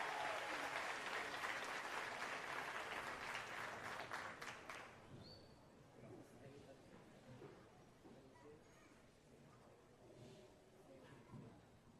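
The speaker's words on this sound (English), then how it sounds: "give these kids a big round of applause for their efforts" Audience at a youth livestock show cattle judging event claps for the kids, a loud wash of applause that fades after a few seconds into quieter room noise and faint voices.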